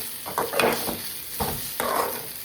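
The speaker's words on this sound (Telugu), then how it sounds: "ఆనియన్తో ఈ చపాతీ ముక్కలు కూడా ఫ్రై చేసుకున్నాం బాగా." Chapati pieces and onion fry in a pan with a steady sizzle, broken by a few louder stirring scrapes, close up with no talking.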